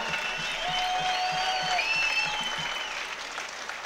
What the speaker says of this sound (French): Je voudrais qu'on les applaudisse très fort pour cette démonstration de MMA.